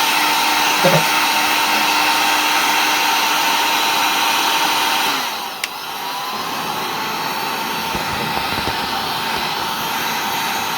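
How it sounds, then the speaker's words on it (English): A heat gun blows steadily at close range while shrinking heat shrink tubing over the end of a nylon-braided analogue interconnect cable, a loud continuous hiss that shifts and drops slightly in tone midway. "now heat shrink over with the gun, with the heat gun."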